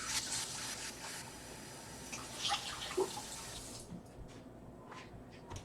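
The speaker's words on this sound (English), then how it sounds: "I'm going to get a 1/2 cup of warm tap water" Warm tap water runs from a faucet into a cup as a steady, moderately quiet stream with small splashes, stopping near the end.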